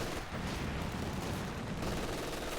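MG42 machine-gun fire and mortar shelling in Company of Heroes form a dense, continuous wash of battle noise, steady and moderately distant, with no talking.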